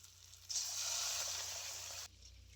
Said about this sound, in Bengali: এবারে আমি দিয়ে দিচ্ছি পরিমাণ মতো জল